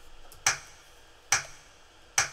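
Finger snap samples in a Pro Tools mix: three crisp, isolated snaps at an even, unhurried spacing, each a bright sharp crack with a short tail over a quiet background.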